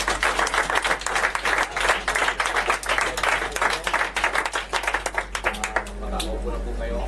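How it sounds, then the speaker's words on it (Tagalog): Congregation at a Christian life seminar claps for the Lord, a dense burst of hand claps filling the room for several seconds with voices mixed in, thinning out toward the end. "isa pang palakpak para sa Panginoon"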